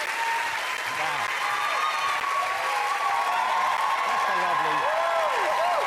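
A studio audience on a talk show applauds and cheers as Westlife walk on, giving dense sustained clapping with whoops throughout, while a host's voice can be heard over the noise.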